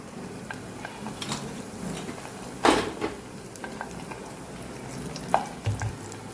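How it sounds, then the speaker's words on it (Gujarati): Mustard seeds and cumin splutter in hot oil with a bay leaf, dried chillies and asafoetida, giving a steady sizzle with scattered sharp pops and light clinks of a utensil against the pan. "રાઈ જીરું સરસ આપણે ફૂટવા દેવાના છે"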